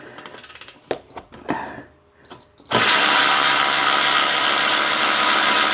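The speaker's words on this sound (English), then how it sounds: "Now I'm going to remove the 4 bolts that hold on the skid plate." Ratchet loosening the skid plate bolts on a Jeep: a few sharp clicks and taps, then a loud, continuous rasping whir that runs steadily close by to the end.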